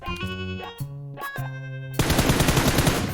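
Rapid automatic gunfire in a battle royale video game, a loud burst of dense rattling shots taking over the last second after a stretch of tonal game music or effects.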